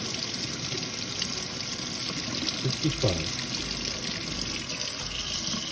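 A water jet from a faucet drives a prototype micro hydro turbine, making a steady rushing hiss of spraying water throughout, with a faint whirring undertone and a brief voice partway through.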